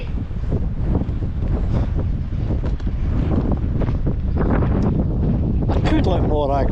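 Strong gale-force wind buffeting the microphone in loud, continuous gusts on a coastal headland, with a voice talking underneath and surf-like rushing in the background.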